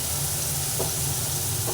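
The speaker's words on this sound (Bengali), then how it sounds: "পেঁয়াজ দিয়ে দিলাম পেঁয়াজটা অল্প ভাজা হবে" Chopped onion and garlic fry in hot oil in a pan, giving a dense, continuous close sizzle with a couple of faint stirring scrapes and no talking.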